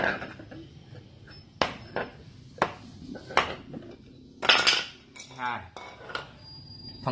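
Clanking metallic knocks and rattles as a Ducati V4 1299 single-sided swingarm brake disc is taken apart from its metal carrier, sharp irregular clinks at close range with scraping in between.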